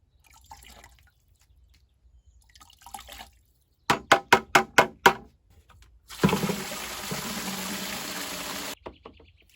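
Water poured into a five-tier garden planter reservoir: a quick run of sharp drips or splashes, then a steady, close pouring rush that stops abruptly, with quiet handling sounds around it.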